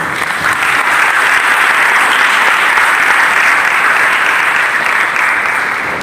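A church congregation clapping during a Hindi sermon, a loud, dense and sustained round of applause from many hands, steady in level for several seconds and heard close up with no speech over it.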